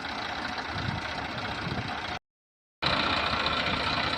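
A 2009-10 New Holland 3230 42-horsepower tractor engine idles steadily with a dense, rumbling drone, briefly cut to silence before the same loud running resumes.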